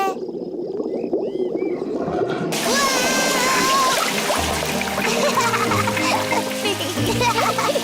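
In a cartoon garden, a hose starts spraying water into a paddling pool, breaking in after a couple of seconds as a bright, splashy hiss that carries on over squeaky cartoon tones and a voice.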